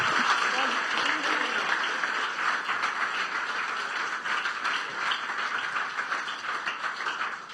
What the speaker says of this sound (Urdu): چھوٹی بچی کے لیے زوردار تالیاں بجائیں گے.